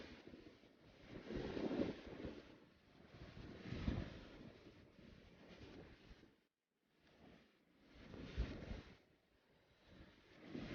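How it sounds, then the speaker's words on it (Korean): Strong wind buffets the microphone at a lakeside during bass fishing on a reservoir, a loud rumbling roar in gusts that briefly drops away before surging back, with no voices. "와 바람 오지게 불고"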